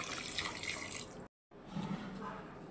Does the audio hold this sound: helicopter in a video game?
no